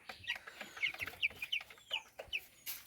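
Chickens on a small home farm cluck in a run of short, repeated calls, fairly close and clear over a quiet background.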